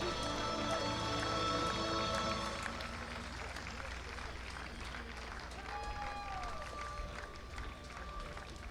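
Crowd applause and cheering at the opening ceremony of the 2015 FINA Men's Intercontinental water polo tournament, greeting host Team USA; a steady, fairly distant wash of clapping that eases slightly partway through, with a loudspeaker voice faintly present.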